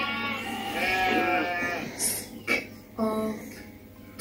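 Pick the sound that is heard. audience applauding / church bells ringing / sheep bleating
sheep bleating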